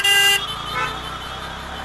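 A road vehicle gives a short, loud horn blast up close, then passes, leaving a steady rumble of traffic and engine noise.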